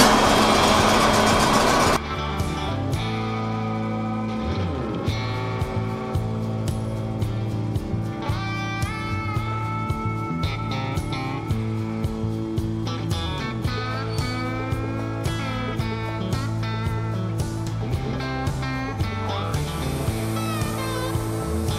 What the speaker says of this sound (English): Let's start milling.